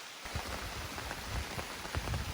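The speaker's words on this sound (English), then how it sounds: "I gotta go because it's pouring now" Heavy rain pours steadily onto a tarp shelter at a lakeside campsite, a dense continuous patter with close drumming drops and no voices.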